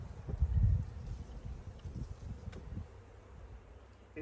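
Honey bees from a forgotten beehive buzz in a low, steady drone under rustling and light wind, fairly faint and continuous throughout.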